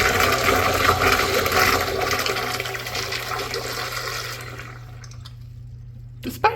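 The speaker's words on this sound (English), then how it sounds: "Let's have a look at bowl rinse." A Kohler Dexter urinal bowl rinse flush rushes loudly up close with water spraying through four rim jets, then tapers off into a faint trickle and drips before a couple of small clunks at the end.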